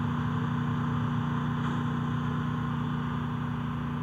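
A car engine drones steadily at close range as it passes by in the Free Fire mobile shooter, a constant mid-pitched hum with little change in loudness.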